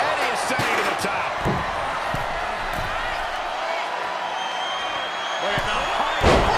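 A wrestler's high frog splash off the top rope crashes onto the mat in WWE 2K23, with sharp slam impacts over a continuous loud crowd roar and a heavier hit near the end, under commentary.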